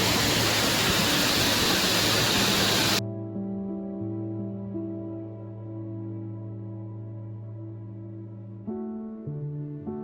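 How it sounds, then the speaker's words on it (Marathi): A small village waterfall in the Konkan countryside gives a dense, steady rush of falling water that cuts off abruptly after about three seconds, leaving low sustained tones. "आणि हा इकडं धबधबा वाहतोय।"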